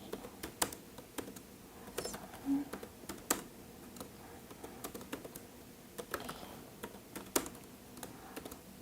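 Fast, irregular clatter of keystrokes on a computer keyboard while R code is being entered, close and fairly quiet, with occasional louder key presses such as a firmer tap on Enter.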